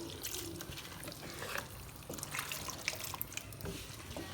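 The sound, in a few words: pouring chickpea boiling water into masala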